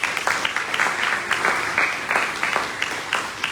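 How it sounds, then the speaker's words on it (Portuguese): A church congregation in Ivaiporã claps together, loud and steady, a dense run of rhythmic applause with no voices over it. "Dê uma salva de palmas ao Senhor."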